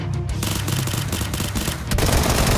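Rapid, dense automatic gunfire in the battle royale shooter PUBG Lite, a relentless fusillade of close, loud shots running through the whole moment with a short lull before a heavier burst.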